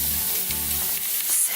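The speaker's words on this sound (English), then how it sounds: "Oh yeah, look at that baby sizzle." Goose breast sizzles loudly in a hot pan, a close, steady hiss and crackle of frying with no talk.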